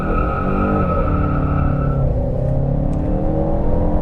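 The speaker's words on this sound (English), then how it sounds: "Brakes in, gas in, and off we go." Ford EcoBoost Mustang in Sport Plus with traction control off launches hard from a standstill, its engine loud and close, revving up in rising tones before one gear change and a steady, rumbling pull, with no talking.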